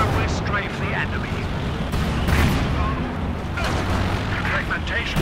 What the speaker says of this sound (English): Now we'll strafe the enemy.